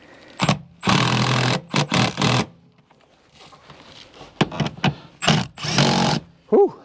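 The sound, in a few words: power tool bolting a car seat back in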